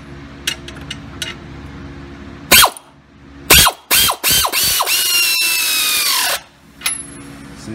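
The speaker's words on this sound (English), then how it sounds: "Take the air wrench." An air wrench tightens a castle nut on a Fox Body rack and pinion in a garage, firing several loud, close, whirring bursts of varying length separated by short pauses and a few light metallic taps.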